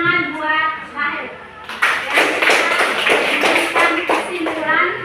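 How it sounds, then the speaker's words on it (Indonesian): Applause in a classroom for a student: a burst of many hands clapping rises after a teacher's voice and continues steadily, close and fairly loud, with chatter mixed in. "tepuk tangan buat Mahir"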